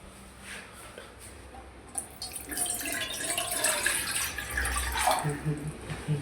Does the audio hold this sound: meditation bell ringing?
no